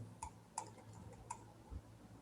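Three or four sharp, faint computer mouse clicks spaced unevenly apart, heard alone against a quiet room hum.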